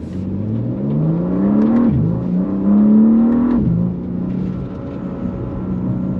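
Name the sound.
sports car accelerating on throttle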